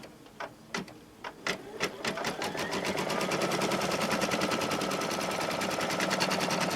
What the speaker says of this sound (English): it's going to stitch the back side of that